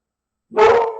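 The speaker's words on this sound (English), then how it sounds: "Oh, there's my dog." A single loud, close dog bark bursts out after half a second of silence and rings briefly as it fades.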